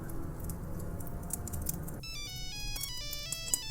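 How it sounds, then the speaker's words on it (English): Mobile phone ringtone playing a bright, quick electronic melody of stepped notes, starting partway through and heard over a low rumbling background. "he heard the faint but unmistakable ringtone of Maggie's phone"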